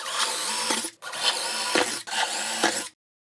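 A power drill drives screws from underneath to mount a router lift into a table saw wing, three close whirring bursts about a second each with brief stops between, ending abruptly.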